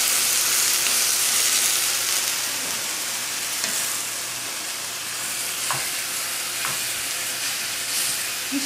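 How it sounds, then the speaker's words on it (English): Ground meat fries in a hot pan, a steady broadband sizzle with occasional soft scrapes from stirring, close and continuous with no talk. "stir up your meat."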